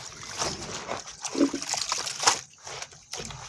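Chicken and pod vegetables for a Maharashtrian village-style chicken popti being rinsed of soil in water, with intermittent close trickles, splashes and sloshing in short bursts, no talk.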